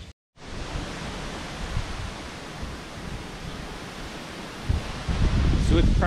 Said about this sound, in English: it's probably pretty windy.